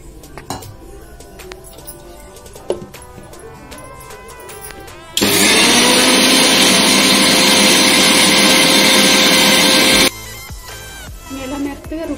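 A mixer grinder whirs loudly and steadily for about five seconds as it grinds soaked lentils into pesarattu batter, starting and stopping abruptly, with clinks of utensils before and after.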